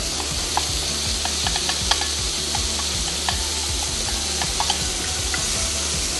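Aromatics sizzle hard in hot oil in a wok for a shrimp and leafy green noodle stir fry, a steady loud crackle broken by frequent clicks and scrapes of a utensil stirring against the pan.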